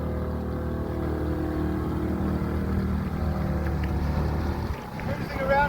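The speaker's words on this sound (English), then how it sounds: "Here comes Carl in his dinghy. Look at that. His new Suzuki." A new Suzuki outboard motor drives a dinghy across the water with a steady droning hum, fairly close and continuous, with wind buffeting around it and a voice briefly chiming in near the end.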